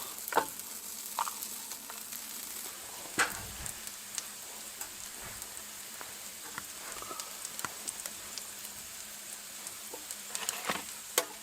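Continuous crackling sizzle of frozen onions frying in a pan inside a stove-heated tent at a winter bush camp, with scattered pops and light clicks throughout; close, steady, no voices.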